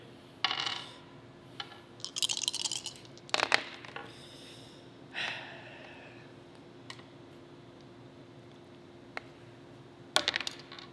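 White dice clatter and rattle in a few separate bursts of sharp plastic clicks across a hard surface during a Reichbusters: Projekt Vril board game, close and fairly quiet, with pauses between throws.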